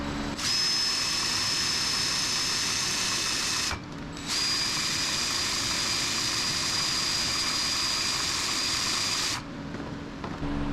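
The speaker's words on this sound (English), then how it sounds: "you take a drill with an adapter for the socket that fits your pinion nut or your yoke nut" A power drill spins a Mopar 8 3/4 rear end through a socket adapter on the pinion nut, a loud steady whine in two long runs with a short pause between, no talking.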